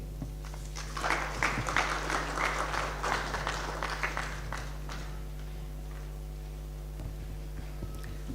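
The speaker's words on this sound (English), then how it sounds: "That round of applause is not fit for" Steady audience applause at a university spring lecture session, moderately loud for about five seconds and then thinning to scattered claps over a constant low hum.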